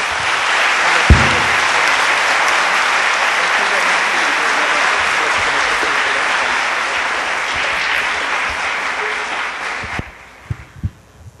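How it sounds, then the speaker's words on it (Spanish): A lecture audience at a law faculty in Puebla applauds to welcome a visiting speaker, sustained dense clapping for about ten seconds before it cuts off, followed by a few scattered claps and handling noises. "Un aplauso, claro que sí"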